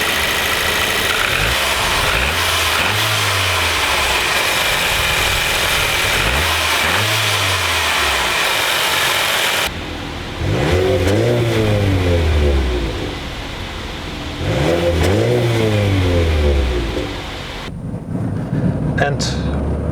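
The 1.3 liter four-cylinder petrol engine of a Mercedes-Benz A200 (W177) revs up and falls back in repeated surges, a few seconds apart, loud and close, with a steady low drone between pulls.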